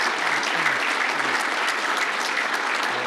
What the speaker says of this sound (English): Let's give a big round of applause for Thurman Thomas.